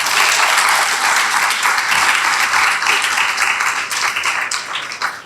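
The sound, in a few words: round of applause at graduation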